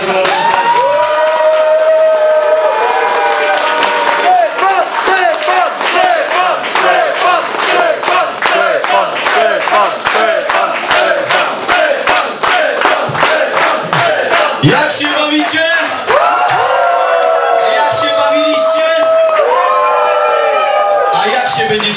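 Party audience at an awards ceremony of a Commodore 64 demoscene party, cheering and shouting with bursts of rhythmic clapping, loud and close, voices rising and falling across the crowd.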